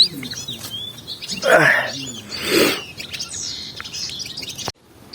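A songbird caught during a songbird hunt gives a few sharp, close chirps and tweets in short bursts, with brief pauses between calls.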